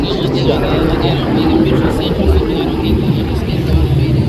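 An aircraft passes at the Wings over Houston air show as a loud, continuous broadband engine roar. A voice talks over it.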